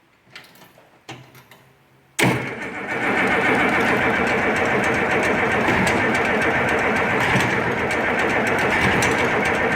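An Oliver 1550 diesel tractor engine starts after a few brief bursts, then runs steadily at a loud, even idle with a dense mechanical clatter on a cool day.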